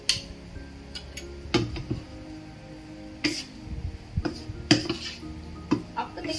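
Apples and half a teaspoon of cinnamon powder being mixed in a pan, with scattered clinks and scrapes of a utensil against the pan at an uneven rhythm, moderately close and fairly quiet.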